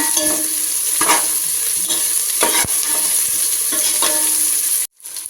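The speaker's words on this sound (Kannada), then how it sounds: "ತುಪ್ಪ ಬಿಸಿ ಆದ ನಂತರ ಈರುಳ್ಳಿ ಹಾಕ್ಕೊಳ್ಳೋದು ಆಮೇಲೆ ಅದನ್ನು ಚಂದ ಮಾಡಿ ಫ್ರೈ ಮಾಡ್ಕೊಳ್ಳೋದು" Onions fry in hot ghee inside a pressure cooker, a loud steady sizzle broken by periodic scraping stirs, ending with a sudden brief cutoff.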